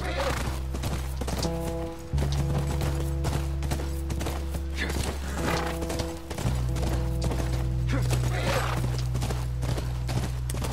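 In The Last of Us, a horse's hooves clip-clop in a steady rhythmic beat, close and continuous under a sustained musical drone, with occasional voices speaking over it.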